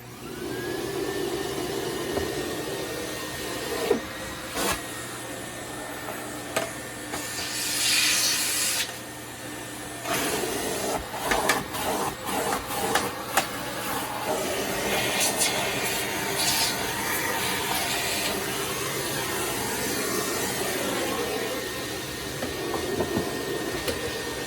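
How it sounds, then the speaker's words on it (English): A Hoover Elite upright vacuum cleaner runs with a steady, loud motor whine throughout, broken by scraping and rattling bursts midway, close to the microphone and with no talking. "so let's get the vacuum on here."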